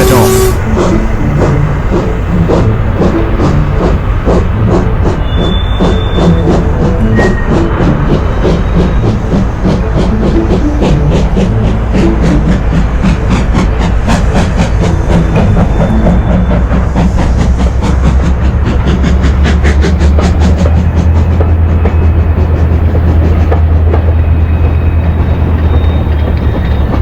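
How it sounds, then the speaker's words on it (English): Toy train setting off and running along its rails, a loud continuous clickety-clack rhythm with hissing, steady and close for the whole stretch, a low rumble building toward the end. "The man and Watson boarded the train, and Mike set off."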